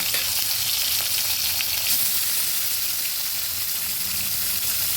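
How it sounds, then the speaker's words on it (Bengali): Boal fish pieces frying in oil in a pan, a steady, dense, close sizzle that runs without pause for the whole stretch. "আস্তে আস্তে ভেজে নেবো মাছগুলো"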